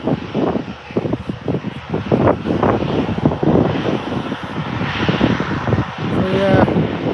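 A fixed-wing aircraft at Liverpool John Lennon Airport, heard as a steady engine roar through light wind, with people talking over it for most of the stretch.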